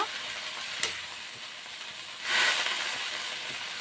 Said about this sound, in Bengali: লং গুঁড়া আর তেলের ভিতরে দিয়ে ভেজে নিচ্ছি ভালোভাবে।